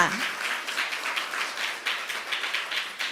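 Scattered applause from an audience at a Thai company presentation, a steady wash of many hands clapping at moderate loudness with no talk over it.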